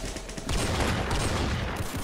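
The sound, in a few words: gunshot in a Roblox shooter video game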